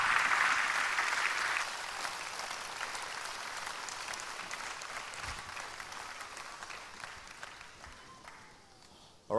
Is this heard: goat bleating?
no